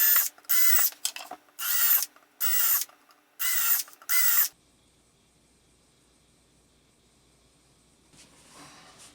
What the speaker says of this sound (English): I'm going to actually pre-drill the holes this time.